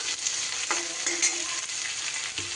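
Diced onion and a medium tomato fry in a pan, giving a steady close sizzle with occasional stirring scrapes and clinks and no voices.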